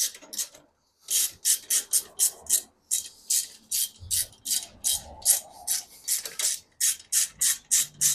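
Bolts on a custom seat mount for a BMW K100 café racer are nipped up with a ratchet, giving a quick run of close, rhythmic rasping clicks in short bursts with brief pauses between strokes.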